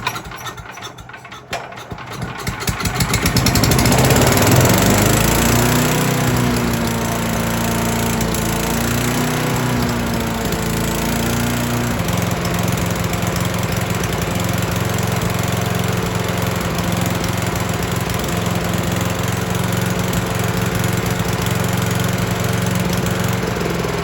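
A cheap chipper/shredder's small engine runs on choke, roaring up after a rough start and then holding a loud, steady, slightly uneven drone throughout.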